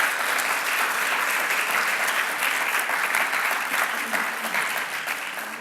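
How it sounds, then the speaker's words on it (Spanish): A church congregation applauding, with steady dense clapping from a full room that carries on unbroken and fades slightly toward the end, loud and close. "Dele un fuerte aplauso a Dios."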